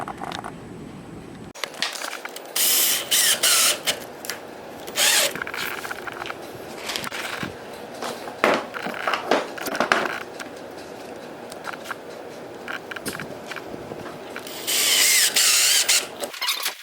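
Screws being driven into small four-inch wooden blocks while cedar decking planks for a paddle board are fitted, with repeated bursts of ratcheting, whirring driver noise and clattering handling, loud and close, without talking.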